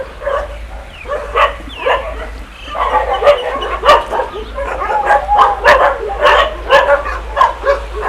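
Several dogs bark, yip and whimper in an animal shelter, a close, loud overlapping chorus of sharp barks in uneven bursts with brief lulls between them.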